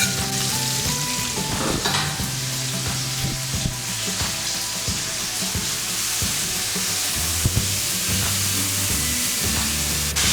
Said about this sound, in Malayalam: നമ്മുടെ സവാളയും ചെറിയ ഉള്ളിയും കൂടെ ഇട്ട് നമുക്ക് ഫസ്റ്റ് വഴറ്റാം